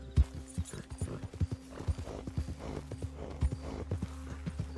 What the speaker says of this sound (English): All right, horse fence jumping time.